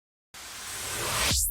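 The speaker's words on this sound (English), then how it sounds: "And then we have this riser." A white-noise riser in a 2000s-style pop beat swells for about a second, brightening and climbing in loudness before a quick downward sweep cuts it off.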